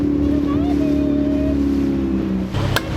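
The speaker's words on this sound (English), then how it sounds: "You've got to excuse the engine noise." Sailboat engine running steadily with a low continuous drone and a constant hum, holding loud and close, with a brief clatter near the end.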